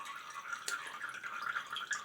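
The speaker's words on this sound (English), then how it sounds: "most of the water runs out of the brush." Water drips and trickles from a wet shaving brush held up after soaking, faint, close and continuous, with one brief sharper splash partway through and no talking.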